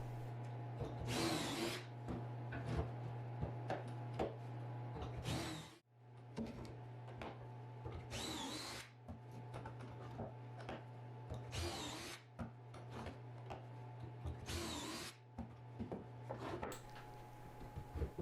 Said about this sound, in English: Now I can start drilling out all the locations where the pocket hole screws are going to go.